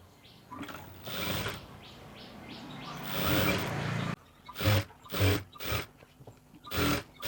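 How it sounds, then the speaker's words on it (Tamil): A tailoring sewing machine runs in short bursts, stitching a seam on a cotton chudi pant, its rapid mechanical whir close and clear, starting and stopping repeatedly with quiet pauses between runs. "வச்சுட்டு இதுக்கு மேலே படிமான தையல் போடணும்."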